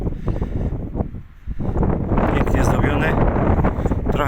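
Gusty wind buffets the microphone with rough, blustery rumbling, briefly easing then roaring back stronger, with a person speaking outdoors underneath.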